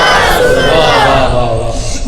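A large crowd at a Jashn-e-Ghaus-e-Azam religious gathering in Naliya shouts a loud chanted response in unison, dense and sustained across the whole moment.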